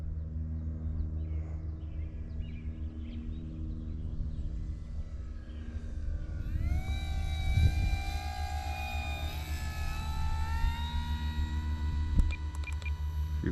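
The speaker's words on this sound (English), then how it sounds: "Let's do a full flap flyby" An FMS PA-18 Super Cub RC model plane with a 1700mm wingspan makes a full-flap flyby, its propeller whine rising in pitch and growing louder as it approaches and passes close by, steady over background hum.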